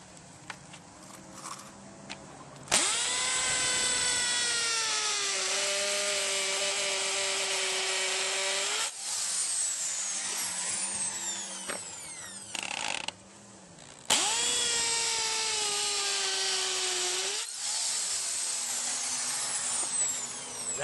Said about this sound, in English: I'm using a hammer drill and drilling a hole